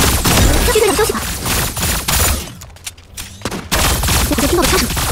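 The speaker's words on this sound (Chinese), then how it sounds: "我好像听到了枪声" Gunfire from the mecha battle-royale video game Super Mecha Champions: dense, loud bursts of shots crackle almost continuously, dropping briefly in the middle before resuming at full intensity.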